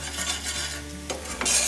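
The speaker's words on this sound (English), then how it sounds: "And we'll give that a good stir." Vegetable egg fried rice being stirred in a pan with a utensil, a soft scraping stir over a steady sizzle, close and moderately quiet, with no talk.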